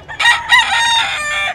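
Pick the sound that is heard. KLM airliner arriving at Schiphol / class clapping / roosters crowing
roosters crowing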